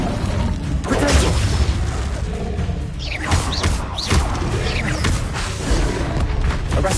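Spell blasts and magical impacts from combat in Hogwarts Legacy, a dense run of booms, thuds and crackling bursts layered over constant battle noise, with faint voices shouting spell incantations.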